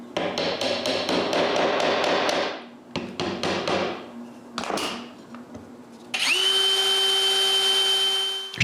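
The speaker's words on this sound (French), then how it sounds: "Je dois aussi percer des trous pilotes pour pouvoir fixer le support à la porte." A drill boring pilot holes into maple wood for a door bracket, heard as rapid tapping bursts, short pauses, then a steady high whine near the end, loud and close with no talking.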